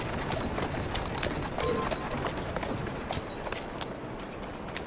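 Horse hooves clip-clopping at a walk on a Victorian London street in Assassin's Creed Syndicate, rhythmic close knocks with faint creaks and a dense background bustle.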